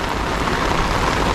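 Rain falls steadily around a residential development's clubhouse during a site visit, making a continuous, even broadband hiss with no voices.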